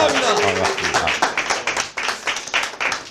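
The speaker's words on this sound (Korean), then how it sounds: "조소환 박사님 뜨거운 박수로 환영해 주시기 바랍니다" A live audience applauds to welcome a guest lecturer at a motivational talk, a fairly loud burst of clapping mixed with a speaker's voice over the top.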